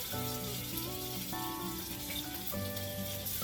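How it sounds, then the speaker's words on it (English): Pork belly sizzles steadily in a hot pan, a soft continuous crackle with some quiet tones playing in the background. "It'll be very gentle, so they are going to sizzle."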